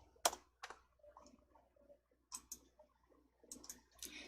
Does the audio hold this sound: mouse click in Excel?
yes